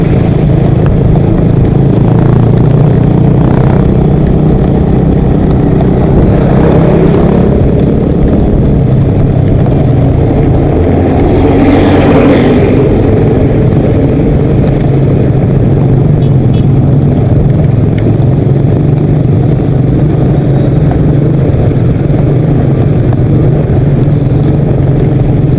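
Traffic passes near a main road, a continuous loud wash of engine rumble and passing vehicles heard from close by.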